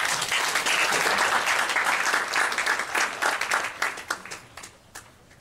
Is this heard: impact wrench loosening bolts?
no